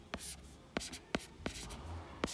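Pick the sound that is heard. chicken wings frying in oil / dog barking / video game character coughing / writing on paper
writing on paper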